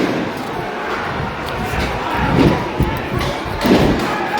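A couple of dull, distant bangs of police gunfire sound over a restless crowd of protesters murmuring in the background.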